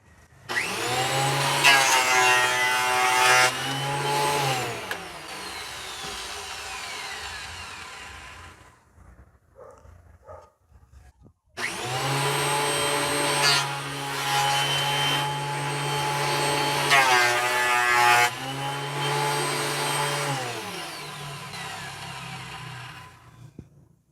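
A Maksiwa DPJ 310 thickness planer feeds boards through, a loud, near motor whine with a cutting roar that runs for several seconds, stops briefly, then starts again for a second long pass.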